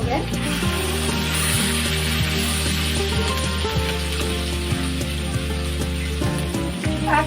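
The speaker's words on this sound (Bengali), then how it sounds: "এখন এই মশলাটাকে খুব ভালো করে কষিয়ে নিতে হবে তেলের সাথে।" Spice paste with ginger paste fries in hot oil for a vegetable curry, giving a steady, loud sizzle with scraping and stirring noises throughout.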